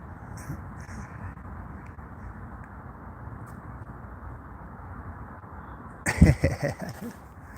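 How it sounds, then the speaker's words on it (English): Magpies call in the countryside, a couple of harsh chattering bursts near the start and a louder cluster of calls toward the end over steady outdoor rumble. "Yeah, magpies, bloody! I just see two over there."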